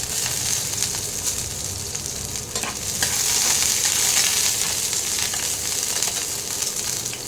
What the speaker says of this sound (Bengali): প্রথমে তেলের মধ্যে দেব রসুন কুচি।